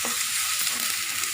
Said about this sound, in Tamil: சேர்த்து நல்லா இந்த மசாலாவோட கூட நல்லா கலருங்க